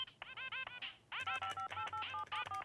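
Melodic sequence of DTMF telephone keypad tones from a song dialer gadget, short harmonic beeps stepping through a tune in quick rhythmic bursts with brief pauses, fairly faint and close, no talking.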